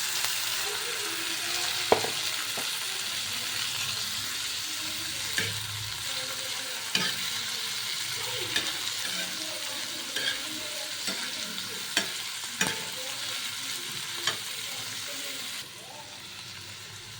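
Tomatoes added to browned onions sizzle in a pan while a spatula stirs and scrapes repeatedly, with sharp clicks against the metal over continuous frying hiss.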